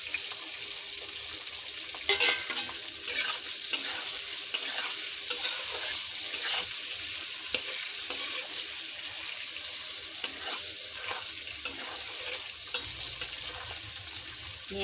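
Onion and potato with green chilli frying in hot oil in a kadai, a constant loud sizzle broken by regular scraping stirs and spoon taps against the pan.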